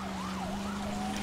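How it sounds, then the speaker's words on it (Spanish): An ambulance siren wails in a rising and falling pattern as it passes on a city street in the video game L.A. Noire, fairly distant and steady under a low engine hum. "Está pasando una ambulancia"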